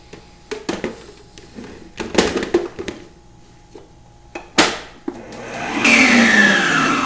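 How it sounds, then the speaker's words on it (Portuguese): Electric mixer beating egg whites for a lemon pie, starting with a few clattering knocks and clicks, then a steady loud whirring drone in the final seconds. "Primeiro a gente vai bater as claras, depois a gente coloca os demais ingredientes. Vamos bater ela por em média 5 minutinhos."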